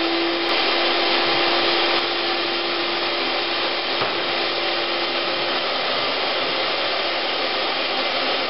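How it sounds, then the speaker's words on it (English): A Festool dust extractor runs steadily and fairly loudly for the whole stretch, a broad even rushing whine that carries no talk and does not change as the track saw cut goes on. "So back on with the dust extraction."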